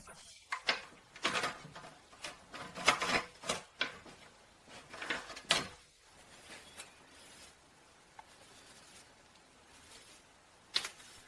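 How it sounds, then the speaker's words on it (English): A metal hoop strip is pre-bent by hand along an oak whiskey barrel in a workshop, giving a series of close, scattered metallic clanks and scraping knocks, then quieter shuffling and a final sharp tap. "we then proceed to gently pre-bend it along our barrel"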